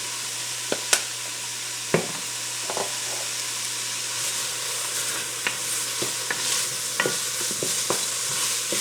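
Onions fry in a pan for Southern smothered chicken and gravy. They are stirred with sharp utensil scrapes and clicks over a continuous sizzle and a low steady hum, and no one speaks.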